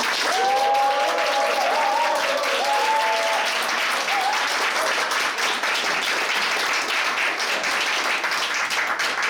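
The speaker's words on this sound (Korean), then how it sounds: "여러분들의 큰 박수와 환호성으로" A large audience at a food columnist's talk concert in Goyang bursts into loud, sustained applause and cheering, dense clapping filling the whole stretch with a few raised shouts early on.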